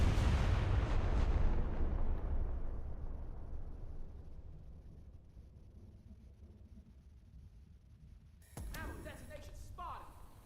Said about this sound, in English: it just blew up the ammo detonation, or ammo room